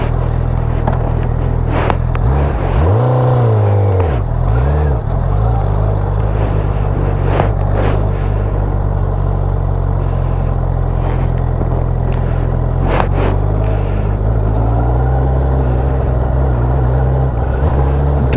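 A 2021 Honda CBR1000RR motorcycle being ridden, its engine a steady loud low drone with rising and falling pitch as it revs, shifts and accelerates, mixed with wind rush throughout.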